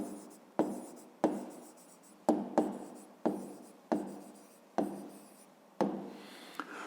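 Pen writing out a maths solution on paper, about nine separate scratchy strokes, each starting sharply and fading, close and quiet with no talk.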